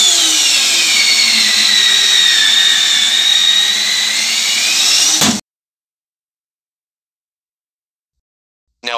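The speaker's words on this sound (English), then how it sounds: "So motor mounted on each pole starts and charge closing spring." The spring-charging motor of an SF6 circuit breaker whines loudly and steadily for about five seconds during a close operation, then cuts off abruptly. Near the end it briefly starts up again.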